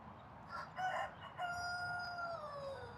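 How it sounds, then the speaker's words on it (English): A backyard rooster crows a full cock-a-doodle-doo on a spring day, faint and somewhat distant, with a few short clucks just before the long drawn-out call. "Can we get a cock-a-doodle-doo for the stream?"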